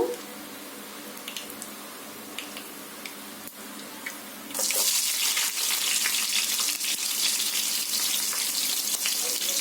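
Chopped onions dropped into hot oil with mustard seeds, the bright hiss suddenly bursting up midway and holding as a loud, steady sizzle after quieter pan sounds.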